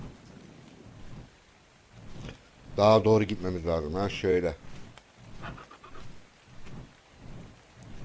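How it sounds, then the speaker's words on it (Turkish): Steady rain falls in the survival game ARK: Survival Evolved, a soft constant hiss beneath someone speaking Turkish that swells and fades across the scene. "Evet yağmur yağıyor."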